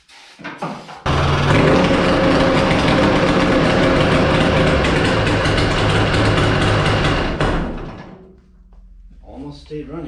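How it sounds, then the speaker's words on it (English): Mini jet boat engine, a 1200R classic, cranks briefly then catches and runs loud and steady close by for several seconds before dying away, with a brief sputter after. "We are gonna fire up the mini jet boat today."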